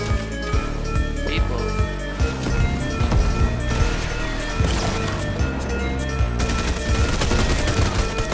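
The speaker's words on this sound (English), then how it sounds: "What are you shooting at?" Rapid bursts of gunfire from weapons in a Fortnite OG 4v4 match, dense and continuous with overlapping shots and impacts throughout, loud and close.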